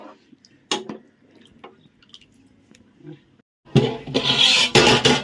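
Quiet drips and small clinks, then a loud rush of bubbling, hissing liquid as a pot comes to a rolling boil close by.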